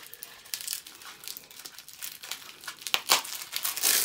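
Beard balm packaging is unwrapped up close, with steady paper crinkling and crumpling that builds to sharper tearing and rustling bursts toward the end; no one speaks.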